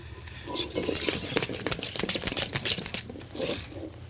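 Soft, uneven scraping and tapping of a spoon stirring cream cheese and heavy cream in a bowl, close by and fairly quiet, with no voices.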